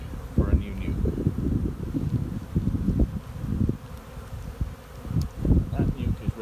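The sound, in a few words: honey bees buzzing during hive inspection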